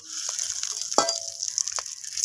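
Dried red chilli, cinnamon, cardamom, cloves and a bay leaf sizzle gently in hot oil, a steady faint crackle with a sharp pop or clink and occasional stirring.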